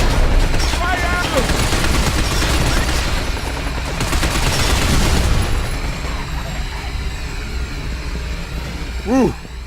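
Gunfire in the video game Binary Domain: dense, sustained bursts of shots and booms fill the first half, thinning toward the end, with voices talking over the battle.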